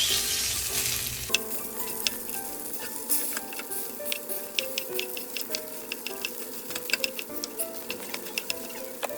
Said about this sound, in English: we'll begin breaking these noodles up a little bit so they're more manageable